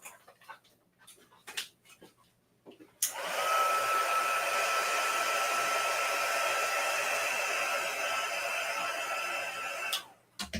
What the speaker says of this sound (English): I almost dropped that heat gun